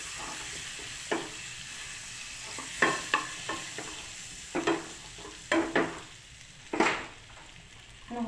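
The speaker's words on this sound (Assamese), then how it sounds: "এতিয়া মই ইয়াতে 2 চামুচ বাটাৰ দিছোঁ" Two spoonfuls of butter sizzle quietly in a pan while pasta is being made, with a low frying hiss under repeated spoon scrapes and stirs at irregular intervals, no talking.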